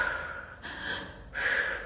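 Slow, deep breaths during a breathing exercise, a long airy inhale followed by a stronger rushing exhale, close and soft with no talking.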